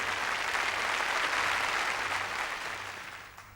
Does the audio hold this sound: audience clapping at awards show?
yes